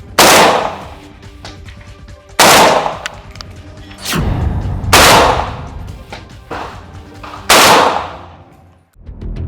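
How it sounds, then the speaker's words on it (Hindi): Loud AK-203 rifle fire rings out nearby in about five sharp bursts spaced a second or two apart, each followed by a long echoing tail. "AK-203 राइफल 1 सेकंड में 10 गोलियां दाग सकती है।"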